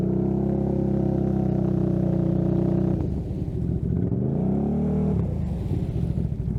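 A mud-riding vehicle stuck in mud revs its engine hard, a steady loud drone that dips and then climbs again as the tires hunt for traction. No voices.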